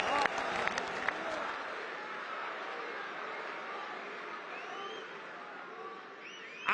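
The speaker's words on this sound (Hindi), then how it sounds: "ना मैं करूं तो ताली बजाते हो" Steady audience applause fills a large public gathering hall during a political speech by an Indian prime minister, a dense continuous clapping crowd from start to finish with no voices over it.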